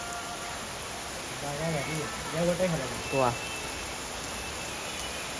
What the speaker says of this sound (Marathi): इकडे पाऊस आली